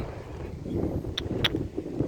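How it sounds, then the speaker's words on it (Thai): A cool breeze blows outdoors by rice fields, producing a steady, low, buffeting rush across the microphone with a couple of brief sharp clicks and no talking. "โอ้ลมเย็นสบายมาก"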